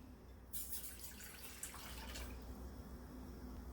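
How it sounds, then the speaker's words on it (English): Water runs steadily from a tap into a pan on a stove burner turned on high, for simple syrup hummingbird food, making a continuous hissing splash that starts abruptly and carries on without any talk. "Add your water."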